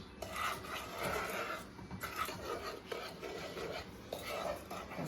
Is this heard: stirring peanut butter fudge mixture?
yes